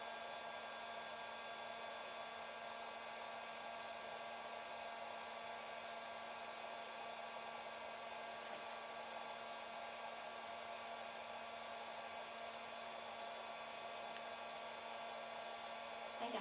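A heat tool blows steadily to dry stamped paper in a craft peacock art project, giving a continuous, even whir with no talking.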